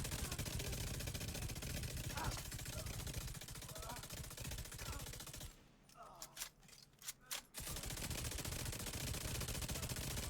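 Rapid gunfire from a weapon in The Division 2, a dense continuous stream of loud shots that breaks off briefly into a few separate bursts before resuming, with game sounds mixed in.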